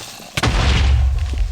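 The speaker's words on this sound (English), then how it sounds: "Well, that was a weak explosion." A video game explosion hits with one sudden loud boom, followed by a heavy, sustained low rumble that fades slowly, and no speech over it.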